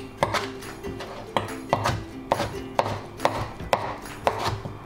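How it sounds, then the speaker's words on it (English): Kimchi leaves are cut into bite-size pieces on a board, a quick series of about a dozen crisp knife chops in an uneven rhythm, close and clear, with no speech. "so I want to cut it into bite size."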